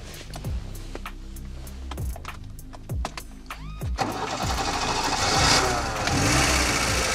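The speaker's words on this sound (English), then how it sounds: "So we start up the engine." A car engine cranks over in a series of sharp, rhythmic turns before catching and settling into a steady, moderately loud idle.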